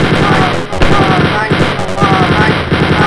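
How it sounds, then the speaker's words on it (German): Enemy guns fire in the video game Wolfenstein 3D, a secret level, a loud dense rattle of rapid shots with brief gaps, close and continuous over game sounds. "Und die Typen schießen halt hin und wieder einfach um die Ecke."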